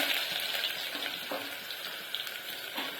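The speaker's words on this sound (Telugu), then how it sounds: "ఆయిల్ అయితే వేడెక్కింది. ఉల్లిగడ్డలు వేస్తున్నా." Sliced onions dropped into hot oil in a pan on the stove, frying with a continuous bright crackling sizzle, close and even, with occasional stirring scrapes.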